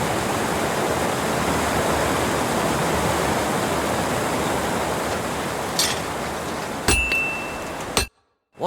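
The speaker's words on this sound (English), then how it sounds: "Like a waterfall or rapids around here." Loud, steady roar of a waterfall or rapids in the video game Kingdom Come Deliverance 2, near the town of Kuttenberg; a dense rushing wash fills the clip alone, with faint clinks near the end before it cuts to silence.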